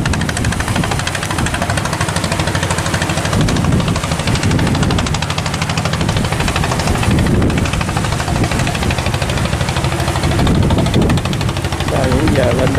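Tugboat towing a pair-trawler fishing boat into a harbour mouth, its diesel engine knocking and rumbling loud and continuous throughout, close by, with occasional voices beneath it.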